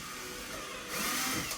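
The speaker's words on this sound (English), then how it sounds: "Little pilot hole, and then we'll put a screw in it." A short burst of a power drill whirring, rising in pitch and strength partway through as it bites into material, drilling a pilot hole for a screw while fitting a front lip on a Subaru WRX Impreza.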